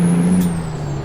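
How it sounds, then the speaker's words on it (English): American Truck Simulator truck with air brakes, a steady low engine drone with a brief hissing burst of air near the start, loud and close, no talking. "I love the sound of this truck."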